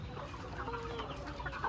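Laying hens cluck softly in a farm coop, a faint, continuous murmur of overlapping clucks and short calls with no talk.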